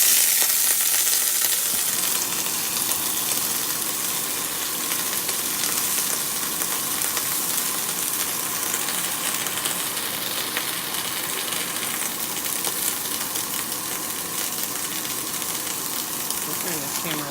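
Butter sizzles loudly in a hot pan for homemade pancakes, a dense, steady hiss and crackle that runs close and unbroken through the whole stretch.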